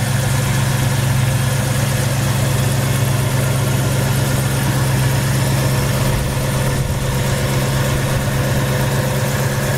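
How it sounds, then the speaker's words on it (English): A tuned-up 1965 Ford Mustang C-code convertible idles steadily, a loud, even low rumble with a constant throb that runs close and unbroken throughout, with no talking. "Engine's been tuned up nicely."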